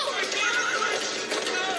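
A horse neighs in a tense TV drama scene, a loud, shrill whinny over hurried hoof movement, with voices shouting over it.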